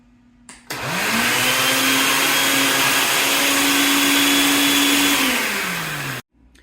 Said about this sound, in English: I've blended it up some